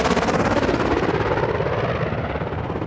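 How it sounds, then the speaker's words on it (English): Helicopter rotor in Call of Duty: Modern Warfare II thumping loud and close in a steady, rapid pulse with a constant engine drone throughout, no voices. "Guys, you stay in the heli on overwatch."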